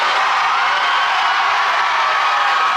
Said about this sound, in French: Si tu aimes Jésus, crie plus fort que ton voisin.